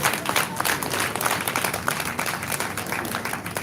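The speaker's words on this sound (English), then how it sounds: "Let's clap, please" Sustained applause from the audience at a faculty lecture of ophthalmology in Nigeria, many hands clapping densely and evenly at moderate distance throughout.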